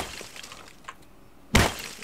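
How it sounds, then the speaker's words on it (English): Glass smashing in the survival video game Rust: one sudden loud shattering crash after a quiet stretch, with faint background noise before it. "Well, it makes like the glass smashing noise."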